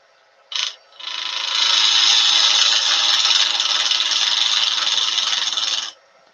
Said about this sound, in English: I'm going to use a skew